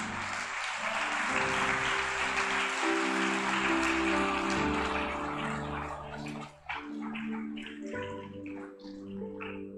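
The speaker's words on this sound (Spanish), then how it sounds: "Dale un aplauso a Dios." A church congregation claps throughout, dense and steady, then thins briefly near the end before picking up again, with no voices over it.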